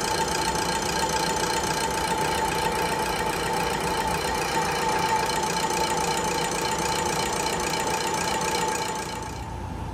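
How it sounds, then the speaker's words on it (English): A lathe machining the ends of a repaired shaft rotor square, giving a loud, continuous droning whine with a steady tone that holds for about ten seconds before easing slightly at the very end. "we machine the ends square so that they are running nice and true with the OD of the rotor. Quite a laborious process and quite noisy as well."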